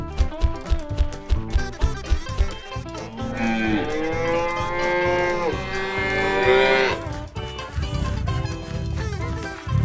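Cows moo in long, loud, drawn-out calls over a busy rhythmic music background, with a clear sustained moo in the middle of the passage.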